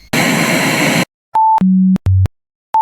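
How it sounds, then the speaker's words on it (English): Voicemail phone tone: a burst of static hiss, then a sequence of clean electronic beeps stepping down in pitch, each held briefly, ending on another high beep, loud and alone. "You have received a voicemail."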